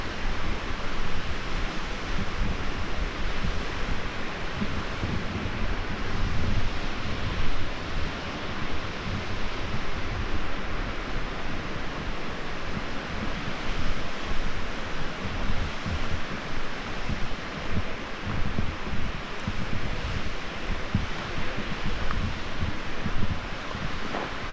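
Sajjikot Waterfall roars as a steady, dense wash of falling water, constant and loud throughout with no breaks.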